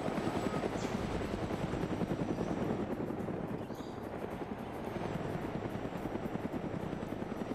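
Military helicopters in a large-scale combat video game thunder steadily overhead, a loud, continuous rapid rotor chop lasting the whole stretch with no talking.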